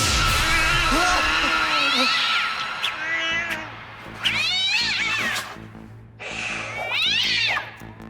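A cartoon cat meows and caterwauls in several loud, wavering yowls, near and insistent, with pauses between cries and a low rumble underneath.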